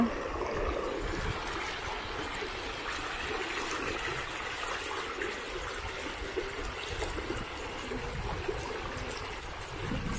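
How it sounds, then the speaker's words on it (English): Steady broadband rush of flowing stream water, continuous and fairly close, with no voices over the ten seconds. "the amazing sounds from the water"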